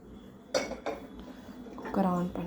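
A pressure cooker is set on a kitchen stove for tempering with oil, giving a few faint metallic clanks and knocks in a quiet room.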